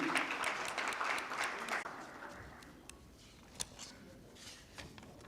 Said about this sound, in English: Round of applause for Mr. Noman Ahmed Saeed.